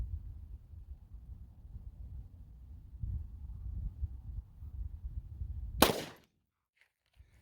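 A single sharp gunshot from a Glock 33 pistol firing 357 SIG Hornady XTP 147 grain rounds, loud and abrupt after a low rumble of outdoor background noise, then near silence.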